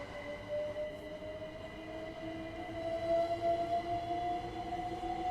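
A Black 5 steam locomotive at Euston in a train simulator game gives a faint, steady rail rumble, with a thin whine that climbs slowly in pitch and a few soft squeals, with no voices.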